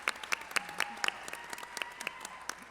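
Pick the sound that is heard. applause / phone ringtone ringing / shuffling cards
applause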